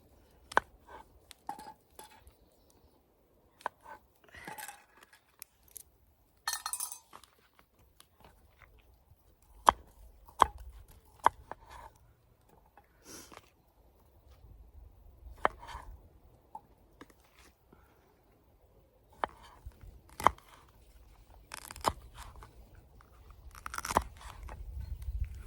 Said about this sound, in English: Mushrooms, tomatoes, onions, baby corn, peppers, and some tofu, which I've marinated. So, let's get these chopped up.